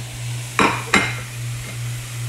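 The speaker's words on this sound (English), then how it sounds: "I'm gonna go ahead and take it and throw it in here with our cauliflower, our beautiful broccoli, our carrots, our squash, our zucchini" Chopped red onion tipped into a pan of cauliflower, broccoli, carrots, squash and zucchini: two quick, close clattering knocks a moment apart over a steady low hum, with no talking.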